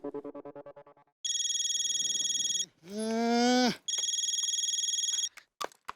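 A mobile phone rings over speakerphone in a comedy TV scene, a loud electronic ringtone with repeated bursts separated by gaps, interrupted by a goat-like bleat and other sound effects.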